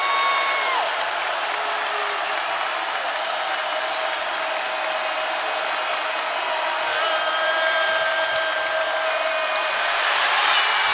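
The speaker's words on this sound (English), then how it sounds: "The crowd is up." A basketball arena crowd at a college women's game between Villanova and Michigan roars with sustained applause and cheering, a dense, loud wall of noise that holds steady and swells slightly toward the end.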